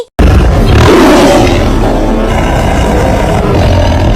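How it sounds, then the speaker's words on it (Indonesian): Tiger roar played from an animal toy, a loud sustained growling roar that starts abruptly and fills the whole stretch without pause. "suara harimau itu seperti ini"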